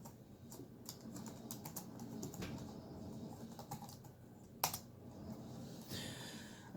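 Someone types on an HP G6 laptop keyboard, with soft, irregular key clicks in short bursts and a sharper tap near the end, quiet and close with no talking.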